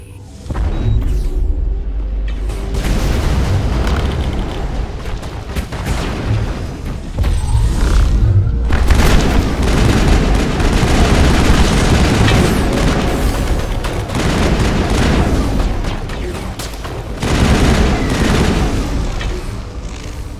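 A firefight on a frozen world in Mass Effect, with dense weapon fire and heavy booming explosions rolling on loud and constant, punctuated by bigger blasts.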